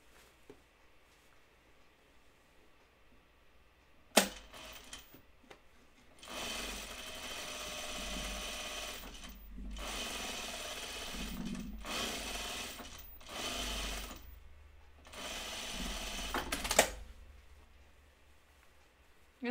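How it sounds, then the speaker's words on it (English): A sewing machine runs an easing stitch along the sleeve of a Deer and Doe Bleuet dress, in several close, steady bursts of fast stitching separated by brief pauses, with no talking. "I'm going to put a easing stitch in this sleeve because I know it has a ton of ease"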